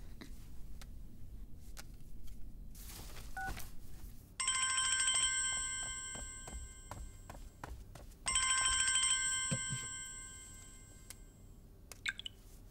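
A telephone rings in two long, bright electronic bursts on the line, each several seconds long, with quiet room noise and faint clicks around them.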